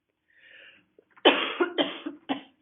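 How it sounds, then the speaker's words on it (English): Four close, sharp coughs in quick succession from one person, loud and near, preceded by a faint throat sound. "Sorry for coughing."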